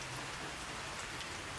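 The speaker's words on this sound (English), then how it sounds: "With the rain out here and all" Steady rain falls outdoors, a constant hiss of drops spread evenly across the whole short stretch, with no voices over it.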